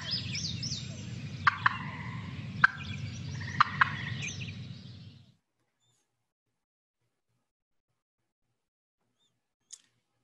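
A hen gives a run of soft clucking, gobble-like calls with a few sharp chirps, close by over low background rumble, then falls silent for the last half apart from one faint click.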